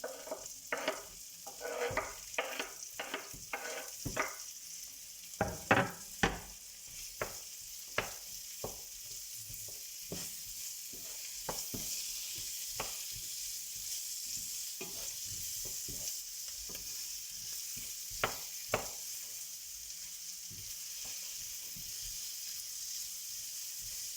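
Kefta fries in a pan under a soft, constant sizzle, punctuated by irregular sharp clicks and scrapes of stirring, busier at first and sparser later.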